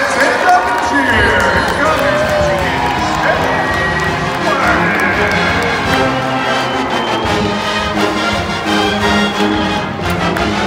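Basketball fans at an MSU game make a steady loud crowd roar with cheering and footfall-like thumps from the arena, while people talk nearby throughout.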